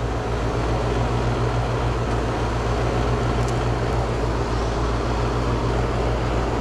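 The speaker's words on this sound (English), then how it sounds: "I think I hear the compressor." An HVAC system's compressor runs with a steady, low droning hum and a faint broadband whir, constant and fairly loud throughout with no speech.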